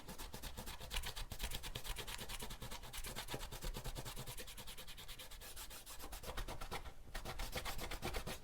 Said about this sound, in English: You can kind of see how that rubber cement just comes right off.